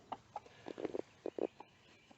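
Soft clucks and low murmuring calls from hens scratching, scattered and irregular, fairly faint with a quiet background.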